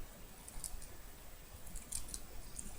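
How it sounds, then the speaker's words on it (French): Precision scissors snipping napkin paper for a Hello Kitty card, a few faint, crisp, close cuts spaced apart over a quiet hiss. "j'ai fini au ciseaux de précision"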